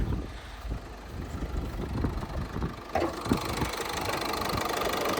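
Engine of a 2011 family crossover with automatic transmission, imported from Belgium, idling under the open hood with a steady, fairly quiet mid-low hum recorded close by, without speech.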